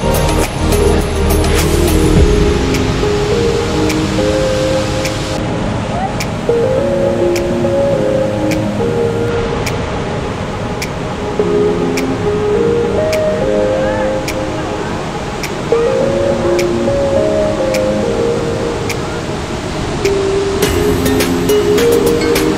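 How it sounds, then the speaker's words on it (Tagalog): Macagba Falls, a waterfall in Cavinti, Laguna, gives a constant broadband rushing roar of falling water from a short distance, with a voice talking over it throughout. "dito pa lang sa kinatatayuan ko, ang ganda-ganda na ng Macagba Falls"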